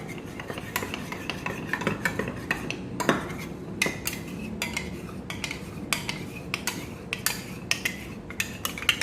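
A metal spoon repeatedly scrapes and clinks against a pot while tamarind chutney is mixed, with a steady run of close, irregular taps and scrapes throughout and no talking.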